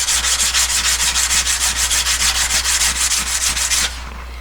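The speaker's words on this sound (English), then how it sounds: "A bit of sandpaper wrapped around a flat stick." Sandpaper wrapped around a flat stick rubbing a Yamaha R1 motorcycle fuel tap valve, a fast, even series of close scratchy back-and-forth strokes that stops near the end, with no voices.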